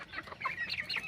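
Chickens on a village farm in Assam clucking softly, a few faint, quick chirpy clucks and squawks in a quiet yard, heard alone with no talking.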